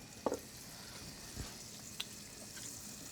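Butter and a touch of oil sizzling gently in a pan, a faint continuous frying hiss with a few small pops and clicks, quiet and close with no talking.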